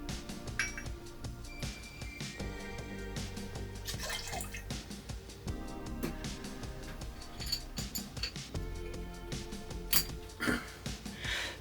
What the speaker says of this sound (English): And finally 15 of our olive brine.